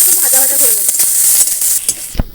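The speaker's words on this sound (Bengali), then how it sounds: "একটু ভাজা ভাজা হয়ে পেঁয়াজ ভাজা হয়ে গেছে" Onions sizzling and frying in mustard oil with five-spice tempering, a steady close hiss with faint stirring, and a voice briefly audible over it.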